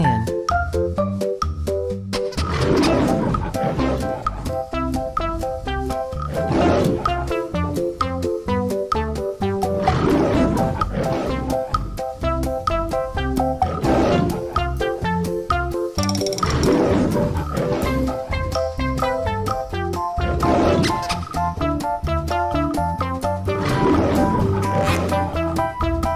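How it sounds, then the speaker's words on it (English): A lion roars in repeated heavy bursts over continuous music that plays throughout. "Lion."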